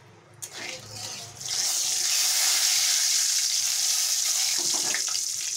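Oil sizzles in a pan with salt, cooked before frying Bhola fish for a fish curry: a short clatter, then a loud, steady hiss that fills the rest of the moment with no talk.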